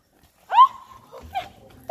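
A dog gives a short high yelp followed by a second softer bark-like whine, close and clear against a quiet background.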